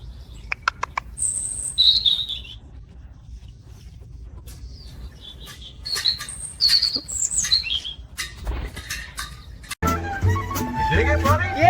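A pet parrot gives a string of high chirps, whistles and squawks, close by and moderately loud, with a burst of louder noise near the end.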